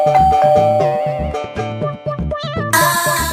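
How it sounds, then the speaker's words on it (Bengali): An electronic calling bell at a home door plays a loud, close melodic chime tune of quick successive tones. "আরে কলিং বেল বাজা"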